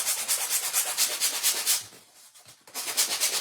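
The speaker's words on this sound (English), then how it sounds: "I like to use the sanding block, and then I wrap my sandpaper around it" Sandpaper wrapped around a sanding block roughing up a surface for a snowman hat, quick rhythmic back-and-forth rasping strokes, close and loud, with a brief pause before the strokes resume.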